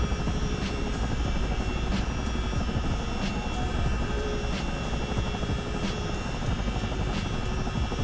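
A CH-47 Chinook helicopter in Microsoft Flight Simulator drones steadily with a deep engine rumble and a regular rhythmic rotor beat, evenly loud and unbroken, with no voices.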